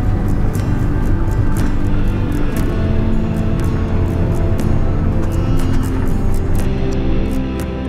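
Campervan cruising along a road in Alberta, a loud, steady close rumble of engine and tyre noise with faint rattles, continuous throughout and no talk.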